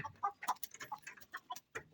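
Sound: chickens clucking in a coop

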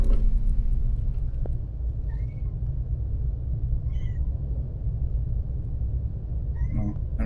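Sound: cat meowing

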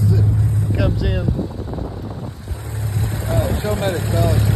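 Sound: motor running on a 22 foot Sportsman boat

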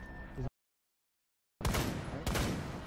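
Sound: gunfire in Rainbow Six Siege video game

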